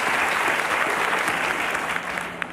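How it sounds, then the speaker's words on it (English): Studio audience of women applauding on a Bachelorette episode, a short, steady wave of clapping at moderate volume that tapers slightly at the end. "Why the fuck are they clapping for that shit?"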